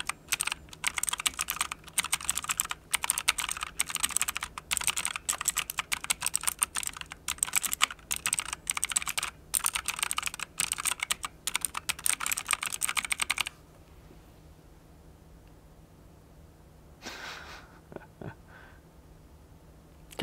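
Rapid, steady clacking of keys on an MSI Vigor GK50 Elite mechanical keyboard, close and crisp for about thirteen seconds, then stopping into near silence with a few faint clicks afterward.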